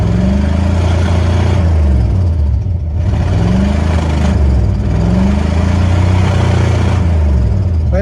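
A Mercedes W126 560SEL with a clogged catalytic converter revs repeatedly from a loud, steady idle, its engine note climbing and falling in several strained swells with no talk.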